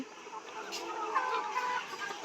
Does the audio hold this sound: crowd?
no